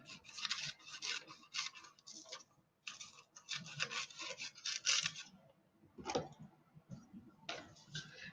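Scissors cutting paper along a drawn line, a series of soft, dry snipping and rasping strokes in short irregular bursts with brief gaps, quiet and close.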